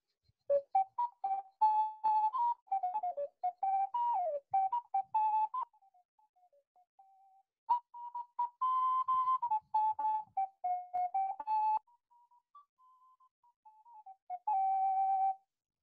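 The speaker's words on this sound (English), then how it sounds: "So he tried to make a whistle with not only one hole, but with many holes." A handmade whistle with many finger holes is played in a series of clear, wavering tonal phrases, with pitch sliding between notes and short pauses between runs, quiet and alone without speech.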